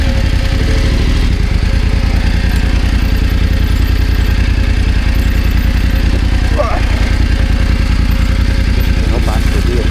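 BMW F900GS motorcycle engine on an off-road trail, loud and close with a steady throbbing idle-to-low-rev chug and clattering mechanical rattle throughout, a rider's voice briefly heard over it.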